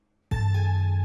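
A single 808 bass hit in an FL Studio trap beat comes in after a brief silence and sustains loud and deep, a booming low tone held alone.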